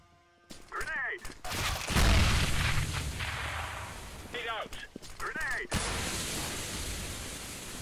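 Grenade blast and gunfire in the shooter game CS:GO, with a loud boom and sustained noisy rumble, bursts of shots, and game voices calling out over the action.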